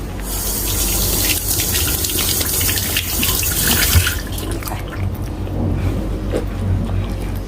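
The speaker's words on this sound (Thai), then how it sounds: "เดี๋ยวเราเอาไปล้างก่อนนะคะ" Running tap water splashing steadily into a sink as peeled mango is washed, loud and close, with the gush easing slightly partway through.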